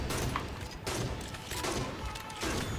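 A sniper rifle in Halo 5 fires in quick succession, heavy booming shots landing roughly every half-second to second, loud and close, with a dense rumbling tail between them.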